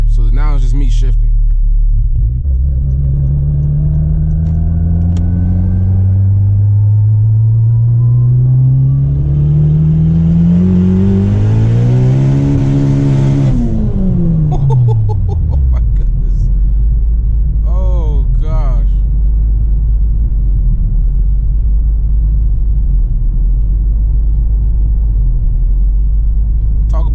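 A 600hp turbocharged Honda Civic Si revs hard, its engine note climbing steeply through gears with a shift, then dropping to a deep steady rumble, loud and close from inside the cabin.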